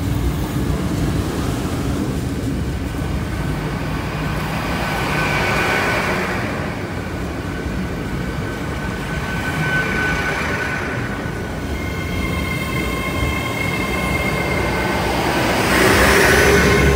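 Class 153 diesel railcar passing the Lincoln High Street level crossing, a steady rumbling roll with faint whining tones rising toward the end, heard from the platform at moderate distance.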